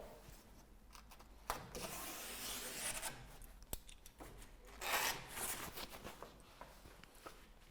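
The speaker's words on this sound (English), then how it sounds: "just simply rest the knife against the batten, trim across the edge, do the same at the top" Utility knife slicing and scraping roofing membrane along a timber batten during roof window installation, a quiet raspy rubbing with a few sharper cuts and scuffs, no talking.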